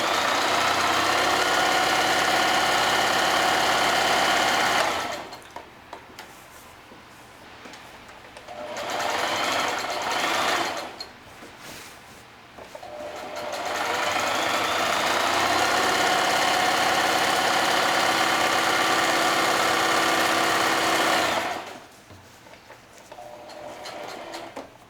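A sewing machine stitches a craft paper template, its motor humming loud and close in three long continuous runs separated by brief pauses.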